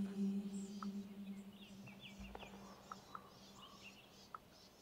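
Faint, scattered bird chirps and short calls drift through a quiet forest, sparse and distant over a steady low hum.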